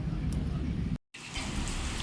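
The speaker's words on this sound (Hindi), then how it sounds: "कितना तेज एकदम बारिश शुरू हो गया" Heavy rain pouring down in a Chhattisgarh village, a steady dense hiss that drops out abruptly for a moment mid-clip and then resumes at full strength.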